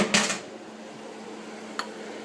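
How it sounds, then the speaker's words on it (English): A utensil clinks against a cooking pan while garlic and wine are stirred for a Bolognese sauce, with a quick cluster of metallic knocks at the start and a single faint clink later over quiet background hiss. "just stir that all in"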